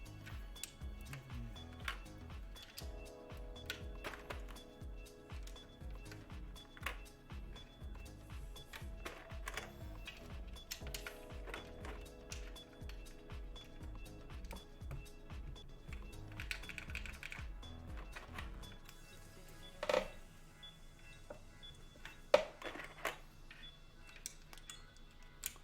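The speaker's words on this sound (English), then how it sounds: "Sounds like a keyboard." Steady, fairly close clacking of typing on a prototype Hiney TKL mechanical keyboard, rapid irregular keystrokes running for about twenty seconds before a few sparser, louder taps; no talking.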